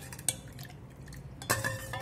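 A spoon stirs drumstick leaf soup in a metal pot, giving soft scraping and a few clinks against the sides. The sounds are close and fairly quiet, with no talk.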